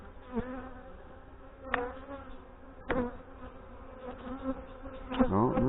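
Honey bees hum in an opened hive after days kept indoors by rain, a dense close buzz broken by a few sharp crackles and knocks from frames being handled.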